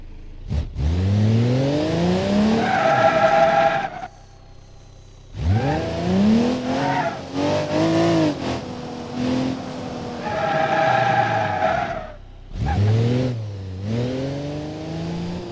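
A car in a card-building mod game revs hard and skids in several long bursts, engine pitch rising and falling between short quiet gaps, loud and close throughout.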